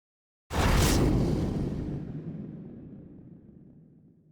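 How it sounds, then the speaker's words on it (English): Blast as a Russian MT-LB armored vehicle is destroyed by a bomber drone, one sudden loud boom followed by a long rumbling decay that fades over several seconds, with no voices. "A bomber from the Predator Patrol Police destroys a Russian MTLB, causing an epic explosion."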